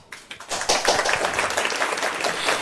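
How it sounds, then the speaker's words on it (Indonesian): Applause breaks out for a guest arriving on a student podcast, a dense wash of clapping that swells within the first half second and holds steady and fairly loud to the end, with no one talking over it. "Mari beri tepuk tangan yang meriah untuk Bapak Rozi Esos MA."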